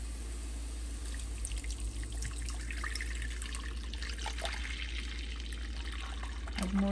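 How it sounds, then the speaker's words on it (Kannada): Milk being poured into a pot of bottle gourd and sago kheer, a steady liquid trickle over a constant low kitchen hum, continuous and moderately quiet throughout. "ಒಂದು 3-4 ಕಪ್ ಹಾಲು ಹಾಕ್ತಾಯಿದ್ದೀನಿ."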